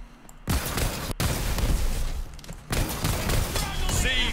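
Rocket Salvo ability firing in Tiny Tina's Wonderlands, a barrage of loud booming rocket blasts and thumps in quick succession, with a voice heard briefly alongside.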